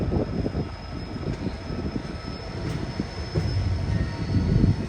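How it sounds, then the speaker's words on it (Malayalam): Passenger train pulling into Ashokapuram railway station in Mysuru, a steady low rumble of wheels and carriages that swells slightly toward the end, with no voices. "അശോകപുരം റെയിൽവേ സ്റ്റേഷനിലേക്ക് ഇതാ ട്രെയിൻ എത്തിക്കൊണ്ടിരിക്കുകയാണ്."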